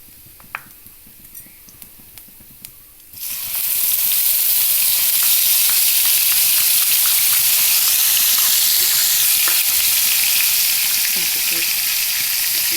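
Dry spices and ginger-garlic paste hit hot oil in an Assamese home kitchen, starting a loud, steady, close sizzle that fills the rest of the clip after a few quiet ticks and clinks at the start.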